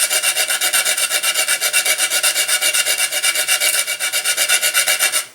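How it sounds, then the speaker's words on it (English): Sanding a wooden part of a Carbonette 12 R/C boost glider model, with quick, regular back-and-forth rasping strokes that are close and loud, continuous for several seconds with no talk. "I'm actually going to sand this off."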